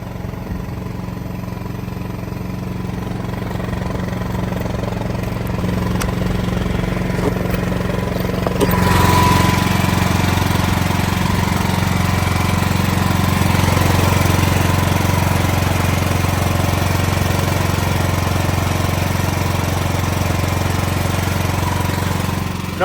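An emergency standby generator runs during a fire alarm and emergency system test with its exhaust fan going: a steady engine drone that steps up louder partway through and holds a continuous roar.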